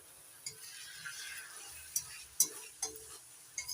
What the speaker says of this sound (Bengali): এখন একটু নাড়াচাড়া করে দেবো